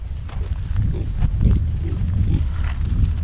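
Low grunting and snorting of several pastured pigs close by, continuous and rumbling over a steady background.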